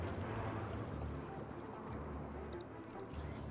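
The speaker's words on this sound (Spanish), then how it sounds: "Commencing spray. Please stand back." Water sprays in Beyond a Steel Sky, a steady broadband rushing wash over a low rumbling hum that holds without a break for several seconds.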